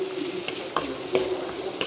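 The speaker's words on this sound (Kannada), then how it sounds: "ಹೀಗೆ ಚೆನ್ನಾಗಿ ಹುರ್ಕೊಳ್ಬೇಕು." Broccoli stir-fries in a pan with capsicum, tomato, green chillies, curry leaves and turmeric, giving a soft continuous sizzle broken by a few light scrapes and taps of a stirring spoon.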